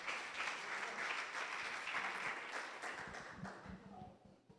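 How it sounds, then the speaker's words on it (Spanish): A church congregation applauds, a full burst of clapping that holds steady before thinning and fading out toward the end. "Denle un aplauso al Señor"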